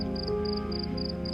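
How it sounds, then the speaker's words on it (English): Crickets chirp at night in Door County in a steady, evenly spaced pulse of high trills, repeating about every quarter second against a constant low background hum. "Bibbles listening to crickets chirp in Door County."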